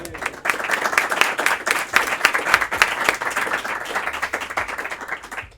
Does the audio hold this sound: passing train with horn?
no